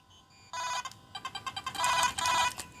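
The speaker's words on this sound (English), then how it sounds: "I want to answer the phone." A video game telephone rings in bright, electronic bursts, a rapid trilling pattern that repeats several times, loud and close with no talking.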